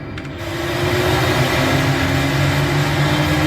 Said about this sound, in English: Jet engine is on.